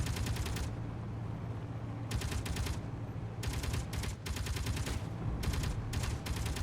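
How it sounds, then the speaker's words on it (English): An automatic vehicle turret in the video game Escape From Pertam lets off repeated rattling bursts of rapid fire between short pauses, clear and steady over a continuous low engine rumble. "Stop shooting, turret, please. You're really just wasting ammo."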